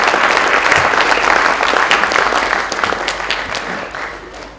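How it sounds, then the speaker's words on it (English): An audience applauds continuously in a dense, steady clatter of many hands, easing slightly toward the end, with no one speaking over it. "I think we should certainly give a round of applause for the"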